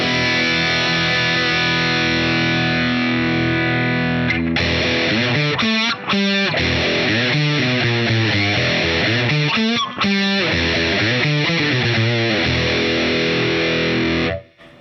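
A PRS NF3 guitar runs through a Boss DS-1 distortion pedal into a miked Boss Katana 300-watt amp, playing saturated, buzzy chords and riffs close and loud for about fifteen seconds without talking.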